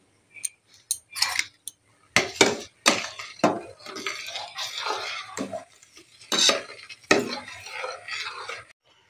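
Rice payesh stirred in a pot over lowered heat, a spoon knocking and scraping the pot in irregular bursts of clatter, close by, with quiet gaps between strokes and no talking.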